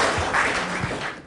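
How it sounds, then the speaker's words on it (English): Audience applause from a live comedy crowd, a dense wash of many hands clapping steadily for a brief moment, fairly close and loud. "Give him a big round of applause"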